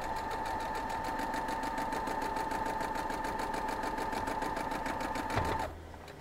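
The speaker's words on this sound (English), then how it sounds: "I'm just going to sew that down." A sewing machine hums with a rapid, even needle rhythm, stitching quilt fabric pieces together from the flat side, running continuously for over five seconds before a brief clunk and slowdown at the end.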